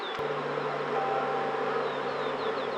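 A swarm of honey bees buzzes in a dense, continuous drone, close and fairly loud, steady from start to finish without voices.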